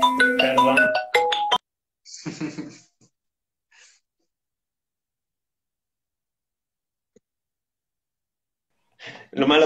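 A mobile phone ringtone plays during an interview, a bright melodic burst in the first second and a half, followed by a person speaking briefly, long silence, and another voice at the very end.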